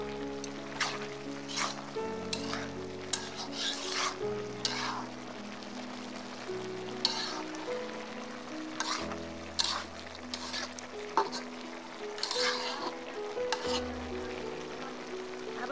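Jackfruit seed, bean, cabbage and potato fry being stirred in a pan, with soft intermittent scraping over a steady low sizzle and tonal background music throughout.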